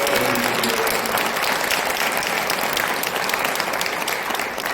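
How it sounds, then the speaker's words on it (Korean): A church congregation claps together in steady, dense applause for several seconds, the sound even and continuous with no voices rising above it. "하나님께 우리 영광의 박수를 드립니다"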